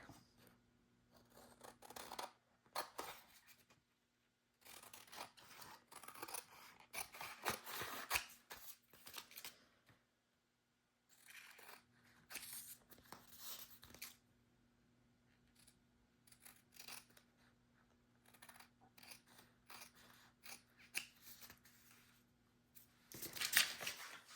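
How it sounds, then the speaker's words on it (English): Paper craft tag being trimmed with scissors, intermittent bursts of snipping and rasping cuts in several clusters separated by pauses, close and fairly quiet with no talking. "we will trim this one up"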